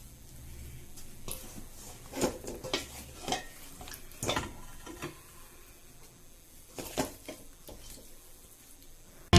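Fried chicken wings moved onto a plate in a home kitchen: scattered clinks and scrapes of utensils against cookware and a plate, irregular and fairly quiet, with gaps between the knocks.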